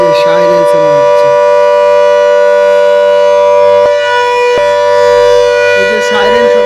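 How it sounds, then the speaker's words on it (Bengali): A loud, steady British-era factory siren at the Saidpur power house, the signal for railway workshop workers, wails continuously with a strong sustained tone and bright harmonics, close and overpowering throughout. "এই যে সাইরেন শোনা হচ্ছে, এটাই সেই সিটি যার কথা বলছিলাম।"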